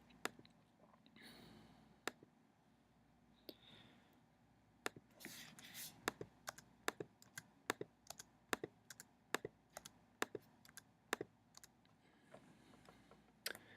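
Computer keyboard keys being typed while entering a graphing equation, sharp distinct clicks arriving irregularly, sparse at first and then in quicker bursts, fairly close and clear over a quiet room.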